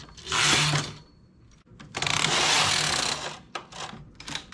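Knitting machine working plain stockinette stitch with metallic yarn, its carriage making long rushing, rattling sweeps across the bed, two main passes close by with short pauses and lighter clicks between.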